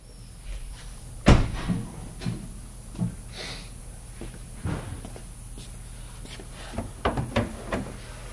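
The hood latch of a Land Rover LR3 is released and the hood is closed, producing a sharp metallic clunk followed by several lighter thumps and clicks, close and unaccompanied by speech.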